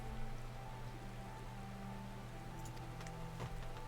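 Steady rain falling in Final Fantasy XIV, a soft continuous hiss with a low ambient game hum running beneath it, alone at moderate level throughout.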